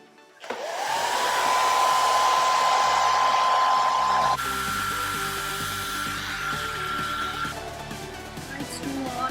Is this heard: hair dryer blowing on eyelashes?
yes